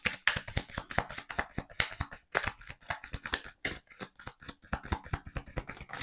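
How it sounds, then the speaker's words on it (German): Tarot cards laid out one by one on a table, giving a close, quiet run of soft slaps, slides and taps in an uneven rhythm with brief pauses. "Ich möchte jetzt nochmal 2 Karten dazulegen."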